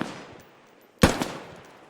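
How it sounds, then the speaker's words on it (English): A single rifle shot in a squad-based shooter video game cracks sharply after a quiet moment, followed by a brief echoing tail. "The best way for you to shoot is in single shots"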